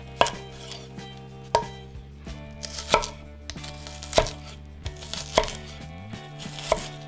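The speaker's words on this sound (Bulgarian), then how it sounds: "Нарязвам червеният лук на сравнително едри купчета" A knife chops red onion on a cutting board in about seven sharp, close knocks at an uneven steady pace, with no talk.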